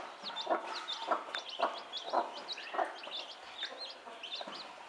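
A mother hen calls her chicks to bed with rhythmic, repeated soft clucks, close by, while chicks cheep high and fast throughout in a quiet setting.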